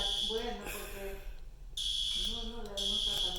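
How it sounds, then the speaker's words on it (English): A fire alarm blares in repeated loud, high electronic bursts with a short gap between them, while a person talks over it. "Fire alarm's still going on."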